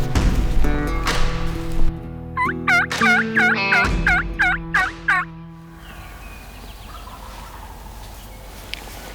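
A wild turkey gobbles during a spring hunt in Minnesota. A single rattling gobble of rapid repeated notes carries from a moderate distance through woodland, after a mix of other birdsong and before quieter ambient air.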